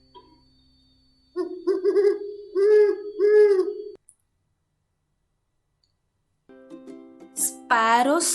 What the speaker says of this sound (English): Owls sounds hoot